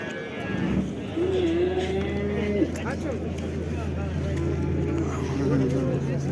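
Cattle moo at an outdoor livestock market in Karakol, several long lowing calls rising over steady crowd murmur and people talking, with a vehicle engine humming in the background.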